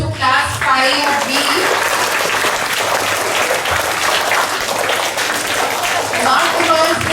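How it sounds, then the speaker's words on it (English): Steady, loud applause fills a school assembly, a crowd of children clapping continuously with some voices mixed in. "I think we must give a big applause to class 5B."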